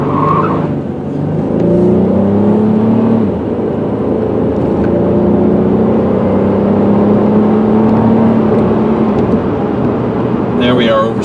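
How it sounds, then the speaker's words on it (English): A silver 2004 Pontiac Grand Am GT accelerates hard, its engine droning upward through the gears with a brief dip at a shift, heard steadily from inside the car while someone talks. "I'm going to really step on the accelerator so you can see it accelerate and shift through the gears."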